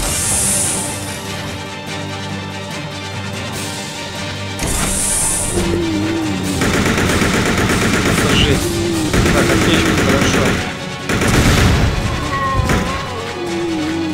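Automatic rifle fire in Resident Evil Survivor 2 CODE: Veronica, loud rapid bursts of shots with heavy booms and thuds, broken by short pauses, over game music.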